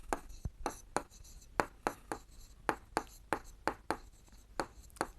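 Chalk or marker strikes out a formula on a board in short, crisp strokes, about fifteen quick taps and scrapes at an uneven rhythm, close and fairly quiet with no voice over them.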